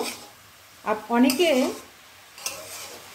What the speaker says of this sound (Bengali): এবার এই হলুদ লবণটা দিয়ে শাকটা একটু ভেজে নেব